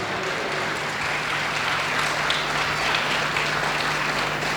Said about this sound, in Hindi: उसके लिए अच्छे से तालियां बजा के उसका स्वागत।